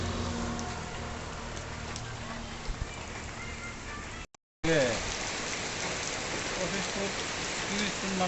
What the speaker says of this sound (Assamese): বহুত জোৰকে আহি আছে বৰষুণ